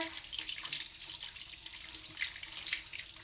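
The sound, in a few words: tap water rinsing dyed fabric in a sink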